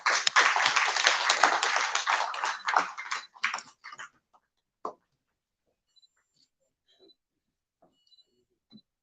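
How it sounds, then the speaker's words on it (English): Audience applause at a national CSR awards summit, a burst of clapping that tapers off within a few seconds into scattered claps and near silence. "May we have a huge round of applause for him."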